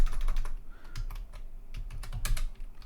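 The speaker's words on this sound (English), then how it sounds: "So what I'm going to do is I'm going to type sudo, that's super user command, systemctl restart" Typing a sudo systemctl restart command on a computer keyboard: a quick run of crisp key clicks at an uneven pace, close and clear with a low background hum and no talking.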